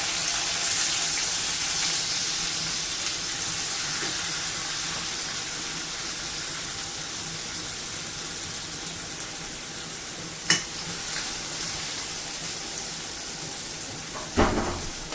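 Onion goes into hot oil already seasoned with mustard seeds and cumin, giving a steady, even sizzle that runs the whole time, with a couple of brief louder crackles near the end.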